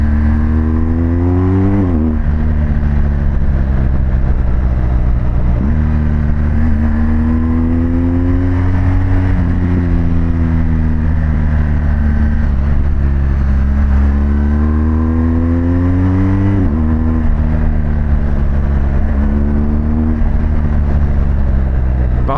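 Steady engine drone of a BMW GS Adventure motorcycle while riding, with rising and falling pitch as it accelerates and shifts through gears, loud and continuous throughout.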